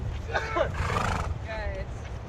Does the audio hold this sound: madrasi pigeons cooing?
no